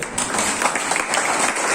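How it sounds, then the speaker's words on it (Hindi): Audience applause at a church youth Good Friday program, a dense, steady burst of many hands clapping that fills the whole short stretch. "एक अच्छी ताली हो।"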